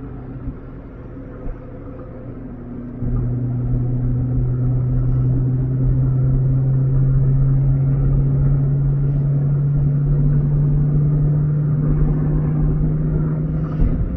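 A Chevrolet Corvette C7 engine drones steadily at low pitch, heard from a helmet-mounted perspective, rising in level after a few seconds and holding a constant hum, with wind-like rumble throughout.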